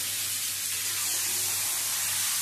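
Marinated chicken sizzling as it goes into a pan of deeply browned fried onions, a steady, dense hiss that holds evenly throughout without pause.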